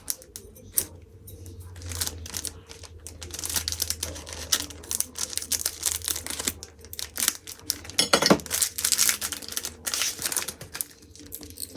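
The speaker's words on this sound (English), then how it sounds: "Okay, I'm going to use my scissors to open it." Scissors cutting and prying at plastic art brush packaging, a close series of irregular snips, clicks and crinkles with brief pauses between bursts.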